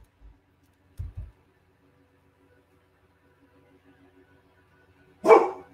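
A dog barks indoors in a few short bursts: two quick yaps near the start and one louder, sharper bark at the end, with quiet room tone between.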